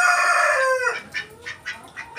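A heritage rooster crows loudly up close in a long rising and falling call, followed by a run of soft repeated clucks from the chickens, with no voices.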